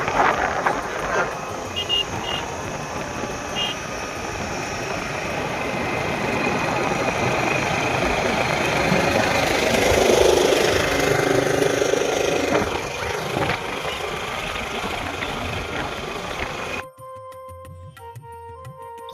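A motorcycle engine runs steadily with a continuous low rumble and wind noise, swelling slightly midway before cutting off abruptly near the end.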